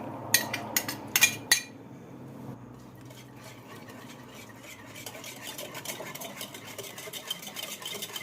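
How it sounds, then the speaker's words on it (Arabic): A spoon clinks against a bowl a few times as a marinade of spices, salt, garlic, crushed pepper, yogurt and tomato paste for grilled chicken wings is mixed, followed by softer, quieter scraping and stirring close by. "خلطتهم كلهم سوا لنخلطوا منيح مع بعضهم"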